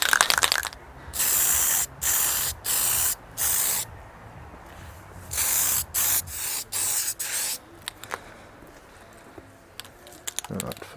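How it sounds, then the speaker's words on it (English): Aerosol spray can painting a homemade bikini fairing for a Kawasaki Z750, a series of close, loud hissing bursts of varying length separated by short pauses. "I'm going to paint this."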